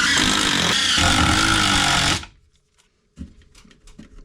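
A power driver sinks screws up through the bottom of a wooden piece during a cabin build. Its loud, steady whirring grinds on for about two seconds and cuts off, then a few faint knocks and handling sounds follow.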